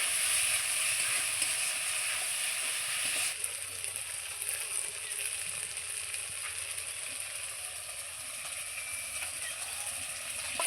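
A spice paste for pabda fish curry fries in hot oil, giving a steady, dense sizzle that runs the full length and eases slightly partway through.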